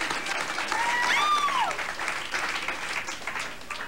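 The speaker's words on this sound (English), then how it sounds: "Gratuitous applause." A studio audience at a MuchMusic taping breaks into cheering applause with a whistle rising over the clapping, lively and sustained throughout.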